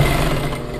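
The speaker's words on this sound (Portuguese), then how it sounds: "Vou costurando." A sewing machine stitches a skirt seam, giving a brief, close, steady mechanical whir with a dense low hum and no talk.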